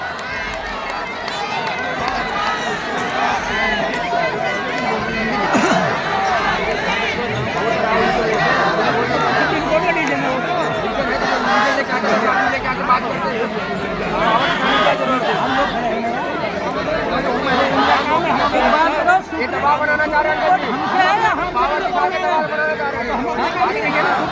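An angry crowd of local people protests a forest department team in Shivaji Nagar, Haldwani, Uttarakhand. Many voices shout and chatter at once in a steady, dense roar that fills the whole stretch.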